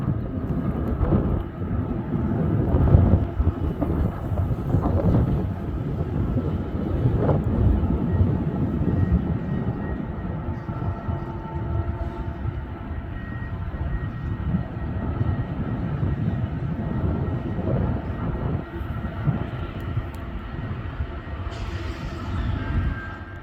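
CN freight train hauled by locomotive 3033 with a Tier 4 unit in the consist, rumbling steadily past at a crossing in Ladysmith, a continuous loud low engine drone and rolling wheel noise that holds throughout with a brief high tone near the end.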